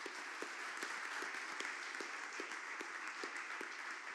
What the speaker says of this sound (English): if I could just ask you to extend a round of applause for Juliet